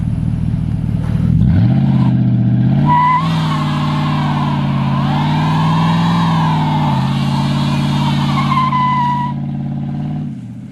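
A Nissan Titan pickup truck revving hard during a burnout, its engine droning loud and close, the pitch rising and falling as the tires spin, with no talk over it.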